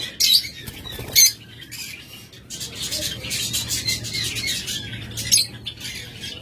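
Caged pet lovebirds and budgerigars of a local breed flutter and chirp close by, with sharp squawks and bursts of wingbeats over a busy background of many small birds.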